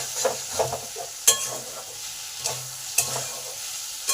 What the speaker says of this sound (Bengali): আলুগুলো হাফ ভাজা ভাজা হয়ে গেছে